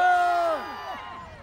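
A crowd cheers and shouts at a tomato festival concert in Daejeo, Gangseo-gu, Busan. Voices swell loud at the start, then trail off and fade within a second and a half.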